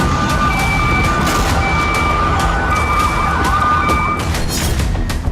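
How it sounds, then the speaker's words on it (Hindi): Air raid sirens wail across Netanya, Israel during an Iranian missile strike, loud and continuous, with steady rising and falling tones over dense background rumble throughout. "बार बार सायरन बज रहे हैं"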